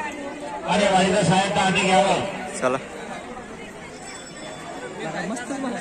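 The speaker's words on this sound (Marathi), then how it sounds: "खाली बघा किती गर्दी आहे." Crowd chatter at a village temple fair, a steady murmur of many voices close by, rising and falling, with someone speaking briefly over the babble.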